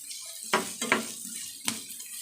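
Food sautéing uncovered in a pan with extra salt added, a soft sizzle broken by three distinct stirring scrapes of a utensil against the pan, close and quiet.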